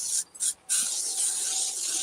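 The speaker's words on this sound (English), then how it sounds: "We're just gonna spray you down before you get in the back." Short hissing bursts of spray from a bottle misted over a person before they get into a vehicle during a house rescue, two quick pumps followed by a longer steady spray, close and fairly soft.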